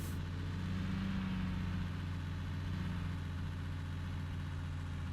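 Car engine in the video game The Ranchers, a steady low idling hum with mild swells in pitch, continuous and moderately quiet with no talk.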